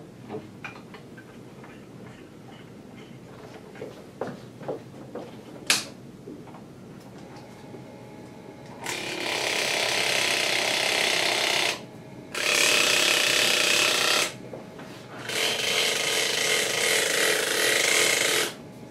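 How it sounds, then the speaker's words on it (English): A driveshaft trainer spinning with its universal joints out of phase at an exaggerated angle gives loud mechanical clattering in three long bursts with short gaps, after quieter scattered ticks and a sharp knock. "we can hear that the shaft is almost stopping on every rotation"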